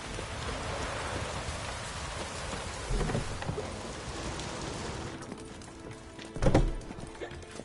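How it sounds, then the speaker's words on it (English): Steady rain falls in the video game The Witcher, a continuous hiss of drops with a couple of louder thumps partway through. Closer, softer drizzle follows near the end. "Looks like rain."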